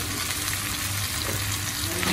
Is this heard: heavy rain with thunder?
no